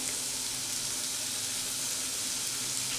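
Tomatoes fry in a pan for a besan curry, giving a steady, close hiss and sizzle with light stirring throughout and no voices.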